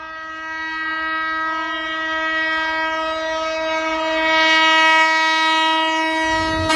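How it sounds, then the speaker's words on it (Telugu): A Vande Bharat sleeper train on a high-speed trial run in the Kota railway division of Rajasthan, reaching 180 km/h, sounds one long, loud, steady horn blast over a rising rolling rumble. "రాజస్థాన్లోని కోటా రైల్వే డివిజన్లో వందే భారత్ స్లీపర్ రైలు స్పీడ్ టెస్ట్ నిర్వహించారు"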